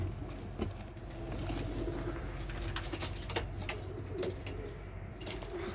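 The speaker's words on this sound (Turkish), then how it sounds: "yavru posta güvercinlerimizi, büyüyen yavru posta güvercinlerini göstermek istiyorum size" Young racing pigeons in a loft coo softly in low, steady murmurs, with a few faint clicks and rustles over a constant low background hum and no talking.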